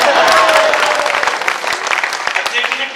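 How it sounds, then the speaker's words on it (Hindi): Audience at a Hindi comedy poetry show breaks into a burst of dense clapping that swells and then gradually thins out, loud and close, with some voices mixed in. "ताली बजा दी।"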